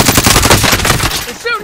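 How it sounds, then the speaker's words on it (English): Video game machine-gun fire, a loud rapid burst of close automatic shots lasting about a second before tailing off. "They're shooting at me!"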